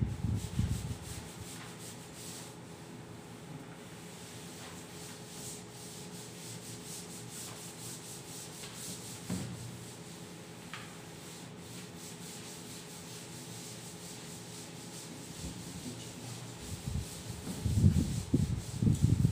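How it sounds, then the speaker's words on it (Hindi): A classroom board is rubbed clean of writing with long, continuous scrubbing strokes, a steady abrasive swishing that stays close. The rubbing grows heavier and rougher near the end, and no one speaks. "इसको अब रब कर देते हैं"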